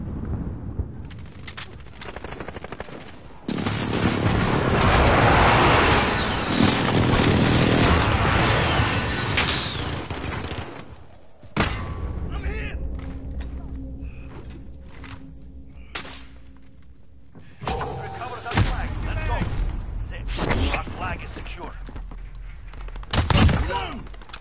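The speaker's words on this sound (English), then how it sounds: "Enemy precision airstrike." Precision airstrike in a shooter game: a long, loud roaring burst of explosions and crackling gunfire, then a quieter stretch with scattered shots and footsteps, and more sharp blasts near the end, with voices talking at times.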